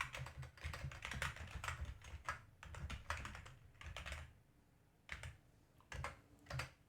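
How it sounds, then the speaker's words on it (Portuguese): Fingers type on a new computer keyboard in quick, dense clatters of keystrokes broken by brief pauses, close and crisp with no voices. "teclado novo aqui, estou me perdendo para achar os colchetes"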